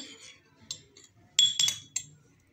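A spoon taps and clinks against a bowl while mixing aloe vera gel with almond oil, a few soft scrapes followed by a cluster of bright, close clinks.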